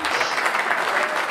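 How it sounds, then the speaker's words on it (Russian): Brief burst of audience clapping at a comedy show, a steady dense patter filling the whole moment. "аплодисменты"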